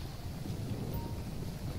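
Steady rain in GTA 5 with a police mod, heard as a faint, continuous hiss of falling water, even and unbroken throughout.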